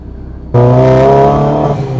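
Supercharged Renault Clio RS200 engine revving hard, bursting in abruptly after quiet and holding a loud, harmonically rich note close up.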